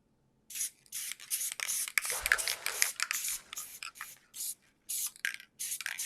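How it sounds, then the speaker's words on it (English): Spray adhesive hissing from a can in a light coat, with several sustained bursts separated by short pauses, close and steady, with no voices. "shake up my spray adhesive, And I always like to make sure that I test it just to make sure it's flowing well."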